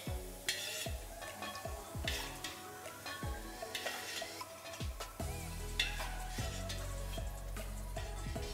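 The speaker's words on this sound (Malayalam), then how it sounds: "നമ്മൾക്ക് കിസ്മിസ് ഇതുപോലെ തന്നെ വറുത്തെടുക്കാം" Raisins fry in hot ghee while a spoon stirs them for nurukku wheat payasam, making a continuous crackling sizzle with repeated scraping strokes against the pan, close and fairly even in rhythm.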